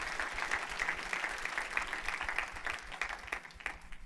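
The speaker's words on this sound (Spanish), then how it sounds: "Dele un fuerte aplauso al Rey de la Gloria conmigo" A church congregation applauding, a steady patter of many hands clapping at moderate distance, fairly soft and continuous.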